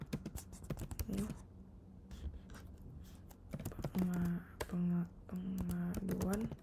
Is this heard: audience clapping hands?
no